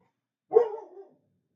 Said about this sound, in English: Wish my dog would stop barking.